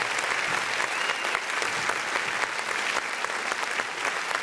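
Enthusiastic audience applause welcoming a guest on a live podcast stage, loud and dense clapping that holds steady throughout.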